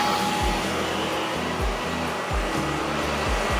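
An industrial vacuum head motor with a pre-separator drum runs at a loud, steady whine, close up, with repeated low swooping pitch shifts through the run and no talking.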